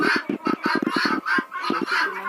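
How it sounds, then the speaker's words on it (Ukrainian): A black hen clucks close by in rapid, uneven bursts of short calls, sitting on a nest in a village coop, loud and continuous with brief pauses between runs. "Ось ще одна моя курочка чорненька сіла"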